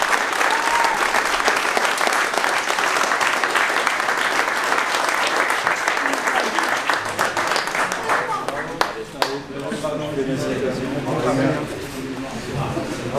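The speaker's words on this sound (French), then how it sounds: "On peut applaudir bien fort." Loud applause for the winners at a 12-hour endurance race podium, a steady dense clapping crowd with a voice speaking over it near the end.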